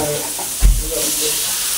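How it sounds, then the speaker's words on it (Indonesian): Fried rice vermicelli sizzles in a hot pan, a steady frying hiss broken by one short scraping stir partway through, close and fairly loud with no one talking. "pagi ini kita masak bihun goreng spring"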